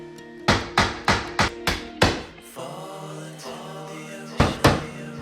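Hammer driving nails into the wooden trim of a small book nook, six sharp ringing strikes in quick succession, a pause, then two more blows, loud and close.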